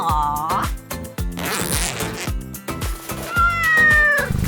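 A cat meows from inside a pouch-style accessory for carrying a pet, its short cries mixed with buzzing and busy background sound.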